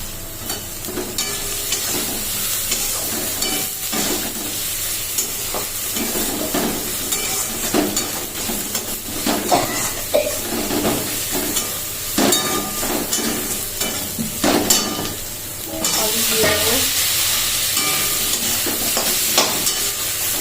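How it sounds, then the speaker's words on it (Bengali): Bay leaves dropped into very hot oil in a home kitchen, sizzling and crackling steadily with stirring clatter close by, no talk over it. "তো তেজপাতা দিয়ে দিচ্ছি তেল গরম হয়ে গেছে খুব"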